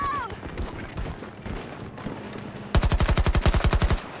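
A PP-29 submachine gun fires in Battlefield 2042: one rapid, evenly paced burst of about a dozen shots after a stretch of softer game noise. The burst is close and loud.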